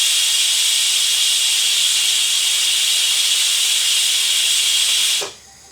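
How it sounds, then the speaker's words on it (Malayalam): A kitchen pressure cooker whistle vents steam in one long, loud, steady hiss that cuts off abruptly near the end, heard alone. "കുക്കർ ഒരു പിസിലടിച്ചു."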